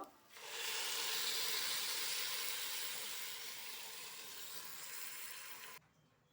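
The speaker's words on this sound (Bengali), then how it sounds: "এবার আমি এতে ফুটিয়ে রাখা সেই জলটা ঢেলে দেব।" Boiled water poured into a pan of fried rice for khichuri sets off a loud, steady steaming hiss and sizzle that rushes up at once, holds for several seconds, then cuts off abruptly.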